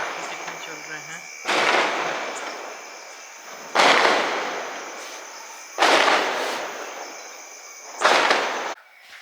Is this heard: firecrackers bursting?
yes